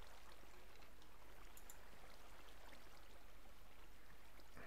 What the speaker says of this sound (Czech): Tuhle vodu ale ucpu.